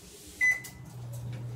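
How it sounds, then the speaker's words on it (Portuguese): A household microwave oven switches on with a short beep and a click, then settles into its steady low electrical hum, close by and with no one talking. "não é bom mexer no celular com o micro-ondas ligado"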